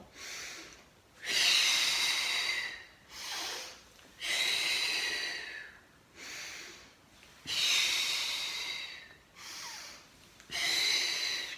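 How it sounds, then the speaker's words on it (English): Deep breaths in and out during an osteoporosis-focused Pilates exercise, six or seven loud, airy bursts in a steady rhythm, close to the mic, with short pauses between them and no talking. "Breathe in to stay, and breathe out to lower."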